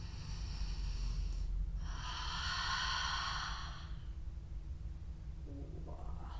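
Slow deep breathing during a yoga stretch: a long soft inhale followed by a longer, louder exhale, close and breathy against a quiet background.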